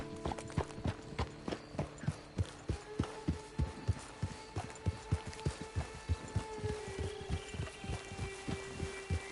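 Horse hooves clip-clop at a steady walking pace in a video game, an even run of sharp, close hoofbeats with faint tonal music underneath.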